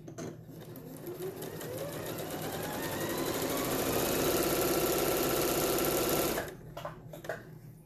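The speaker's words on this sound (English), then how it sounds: "The needle will go up and down and sew your fabric." A sewing machine stitches fabric for quilted four-patch coasters, a fast rhythmic needle clatter that speeds up and holds steady for several seconds before stopping abruptly, close and alone.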